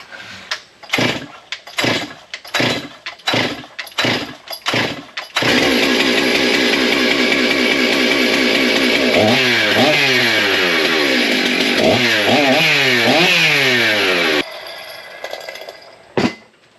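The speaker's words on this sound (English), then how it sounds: "2019 model saw, definitely has some use and abuse, but fired right up, seems to run pretty good" A used 2019 stock chainsaw, a big bore 661, is pull-started with several rapid rope pulls, then fires and runs loudly with revving throttle blips before cutting off.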